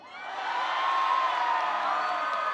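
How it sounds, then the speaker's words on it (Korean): Festival crowd at the Cheonan Heungtaryeong dance festival opening ceremony cheering and whooping, a sustained roaring mass of voices that swells and holds, loud and continuous. "이제 두 번째 공연 시작할 텐데 함성 한 번만 질러주세요."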